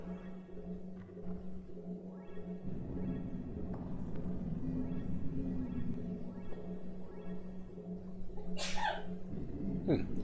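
A single sharp sneeze near the end, standing out over steady underwater-themed game music from Aquanaut's Holiday on PlayStation.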